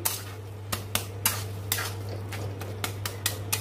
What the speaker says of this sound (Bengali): এবার সব শুদ্ধ নাড়বো, নেড়ে মিশিয়ে নামিয়ে দেবো